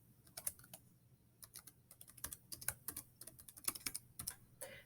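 Typing a name on a computer keyboard, with a quick run of close, crisp key clicks in uneven bursts with short pauses and no talk.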